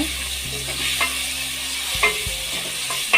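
Boiled eggs stirred in a sizzling masala gravy in a pan, with a steady frying hiss and a few soft scrapes of the spatula, close and alone without voices.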